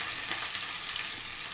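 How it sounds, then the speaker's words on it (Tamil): Ginger garlic paste fries in a pan for a spicy brinjal masala, giving a steady, close sizzle with soft crackling bursts throughout and no voices. "இஞ்சி பூண்டு சதைச்சி வச்சுருக்கேன், நல்லா ஃப்ரை ஆகட்டும்."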